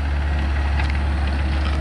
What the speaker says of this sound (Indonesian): Mohon maaf kalau suara saya sedikit terganggu karena suara ekskavator ini memang agak besar